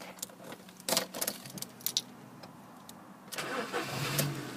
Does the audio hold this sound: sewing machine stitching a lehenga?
no